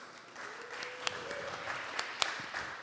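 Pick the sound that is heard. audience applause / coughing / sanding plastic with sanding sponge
audience applause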